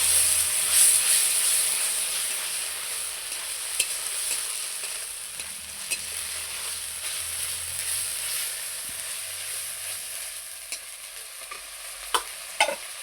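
Garlic and chili paste sizzles steadily in hot oil in a pan, a close continuous frying hiss broken by occasional scrapes and taps of a stirring spoon.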